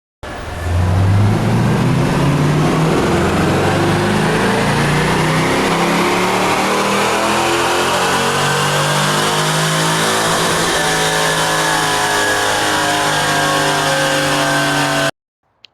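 A car engine on a dyno with the fuel mixture leaned to 11.5 revs loud and alone in one long sweep, its pitch climbing steadily through the run before cutting off abruptly.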